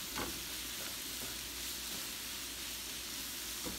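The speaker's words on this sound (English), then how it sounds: "we're going to saute these around again for about another 2 or 3 minutes." Chicken pieces for chicken cacciatore sautéing in a pan, giving a steady, moderately quiet sizzle and hiss. A few faint clicks of stirring break in near the start and the end.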